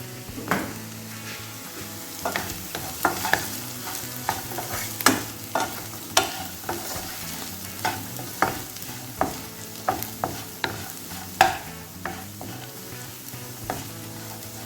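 Bitter gourd fries in hot oil while a spatula stirs it, giving a steady close sizzle punctuated by regular scraping strokes against the pan, with no talking.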